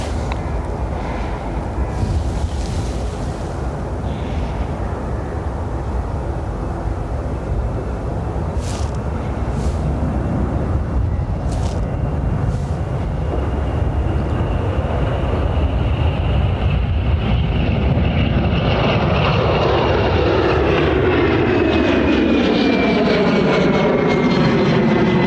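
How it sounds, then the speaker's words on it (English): A fixed-wing airplane passes near Dublin Airport, its engine roar building loudly and then sweeping down in pitch as it goes by close, with no talk over it. "Quiet plane again."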